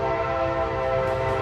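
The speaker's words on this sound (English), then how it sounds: "But here comes the train." A train passes through a town with a loud, steady tonal horn or whistle holding over a rumbling rail bed, the sound staying strong and unbroken through the whole moment.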